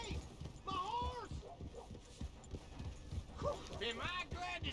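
Horse hooves clip-clopping in the video game Red Dead Redemption II, a steady patter of hoofbeats close by under game music and character voices talking.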